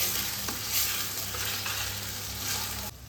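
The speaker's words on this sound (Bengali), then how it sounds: "দই দেওয়ার পর মশলাটা অনবরত নাড়তে হবে" Spice masala cooked with yogurt for Bengali katla kalia, stirred steadily in a hot pan: an even, continuous sizzle with soft scraping strokes throughout, no voices.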